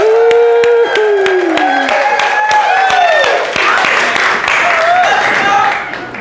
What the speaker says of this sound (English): Everybody's going to cheer their mom.